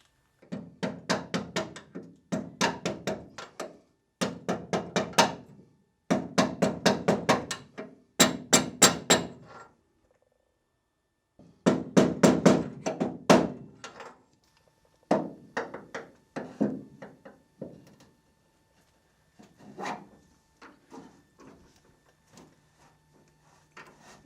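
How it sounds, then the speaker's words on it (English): Repeated bursts of sharp hammer blows strike in quick clusters, pausing between sets, then lighter, sparser taps toward the end, driving an interference-fit part into a Porsche 356 front suspension. "now we just need to come up with something to hammer it in"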